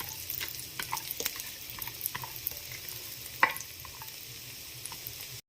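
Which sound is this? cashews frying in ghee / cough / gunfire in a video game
cashews frying in ghee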